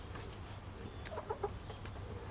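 Hens clucking inside a henhouse, a few soft, short clucks and murmurs over a low background hum, fairly close and quiet with no talk.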